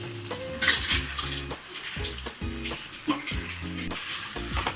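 A spoon scrapes and clanks in a pot as pasta is stirred into a gongura gravy, repeated rhythmic metal knocks and wet squelches close to the microphone.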